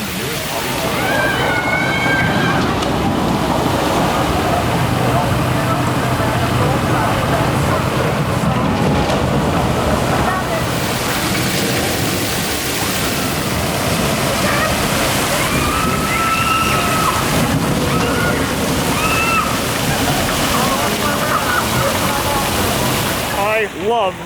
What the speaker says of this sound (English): I love this log flume.